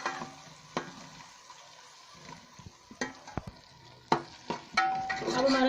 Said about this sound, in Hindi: अब हम इसमें चिकन शामिल करेंगे। और इसे थोड़ी देर फ्राई करेंगे।